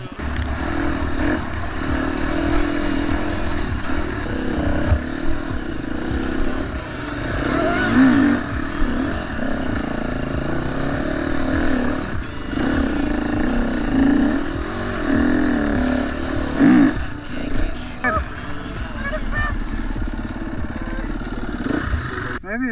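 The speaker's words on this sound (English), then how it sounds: "But I'm gonna take Jarry's bike up a gnarly hill." Motorcycle climbing a steep hill, engine note rising and falling under load with clattering and scraping, while people talk over it.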